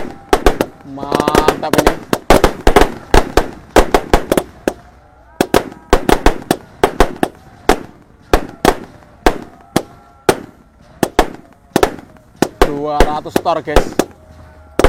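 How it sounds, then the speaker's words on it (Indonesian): A large 200-shot roman candle fires in a rapid series of sharp, loud bangs and pops. The blasts come in irregular bursts across the whole stretch, and voices talk and exclaim over them at night during a festive takbiran celebration. "Romain candle terbesar ini."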